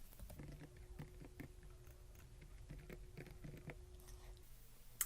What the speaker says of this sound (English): So you'll need to type in your school username and your school password.